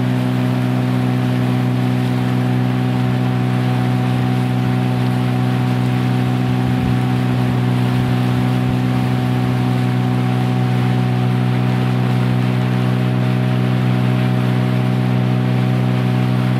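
A motorboat engine drones steadily at low revs on the Pechora River, a constant loud rumble with a faint wash of water and no voices.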